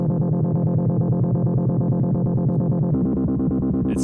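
Distorted synth loop with its filter cutoff automated to dip during the latter bars, a steady pulsing pattern that darkens and thins before returning, loud and continuous with no voice.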